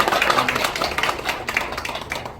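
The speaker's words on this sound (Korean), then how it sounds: "여러분 따뜻한 박수 부탁드립니다." Loud, close applause from the audience at a Sejong City investment agreement signing ceremony, crisp overlapping hand claps forming a busy, even patter that holds steady throughout without speech.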